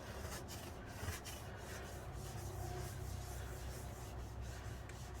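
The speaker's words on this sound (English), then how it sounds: "I'm kind of like scraping them as I'm using the eraser" Steady dry rubbing and scraping of an eraser wiping textured pastel and neon chalk marker off a board, a continuous close gritty friction with no talking.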